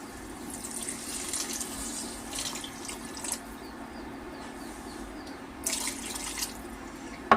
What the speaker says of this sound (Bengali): এখন হচ্ছে আমরা এখানে দিয়ে দিব পানি।